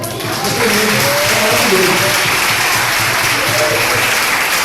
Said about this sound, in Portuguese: Dá um salve de palmas assim